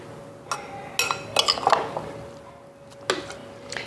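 Fermented salsa of tomatoes and onions is packed tightly into a glass jar, giving scattered clinks and knocks of a utensil against glass with soft squishy bits between, close and fairly sharp, with a quiet gap before a final clink.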